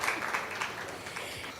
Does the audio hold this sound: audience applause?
yes